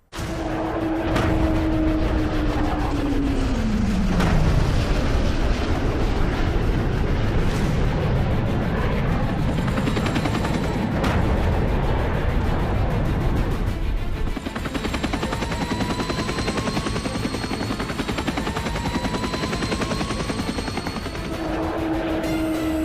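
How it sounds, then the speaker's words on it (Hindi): Indian Air Force firepower demonstration at the Pokhran field firing range in Rajasthan: a loud, continuous roar of gunfire, explosions and aircraft, with sweeping engine whines passing overhead, no voices. "यह अभ्यास एयरफोर्स का सबसे बड़ा फायर पावर डेमो था"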